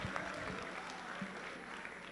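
Crowd at a school pep rally applauding steadily and densely for the principal, a continuous wash of many hands with a few whoops, moderately distant.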